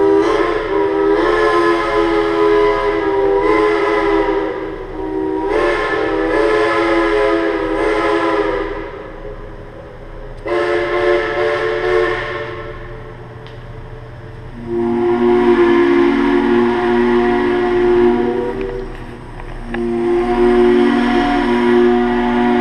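A Heisler steam locomotive whistle at a West Virginia scenic railroad sounds in long, loud, chime-like blasts with short gaps between them, its pitch changing near the end, ringing clearly across the open air.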